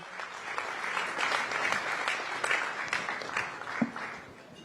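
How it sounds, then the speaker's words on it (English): An audience applauds at an award ceremony in Delhi, a steady wash of many hands clapping for several seconds, fairly loud and without talk. "Can we have a round of applause, ladies and gentlemen?"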